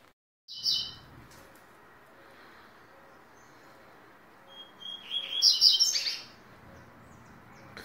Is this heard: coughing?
no